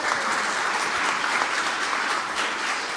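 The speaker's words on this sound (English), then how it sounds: "Let's give her a round of applause." Audience applause at a STEM convening at the White House, steady dense clapping from a crowd filling the room for several seconds.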